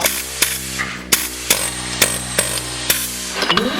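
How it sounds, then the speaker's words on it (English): Sharp, percussive metallic bangs repeat at irregular intervals, about eight or nine hits over a steady mechanical hum, like a pneumatic air hammer striking metal nearby, while restoring a 1958 Wheelie Horse RJ58 garden tractor with bronze bushings. "Oh, you got the air hammer."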